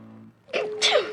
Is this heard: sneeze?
yes